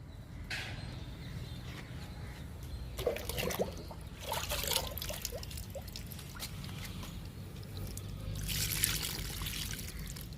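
Oats liquid and kitchen-waste liquid fertilizer poured onto a cherry plant, a soft trickling and dribbling with brief splashy bursts, close by over a low background hum, no talking.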